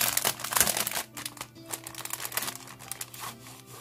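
A packet of junk journal paperclips is torn open by hand, giving a run of close, crisp plastic crinkling and rustling over a low steady hum.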